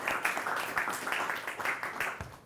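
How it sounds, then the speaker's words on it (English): Audience at a public lecture on the world economy applauding to welcome the lecturer, a short burst of fairly close, irregular clapping from a modest crowd. "let us give him a very big round of applause and welcome"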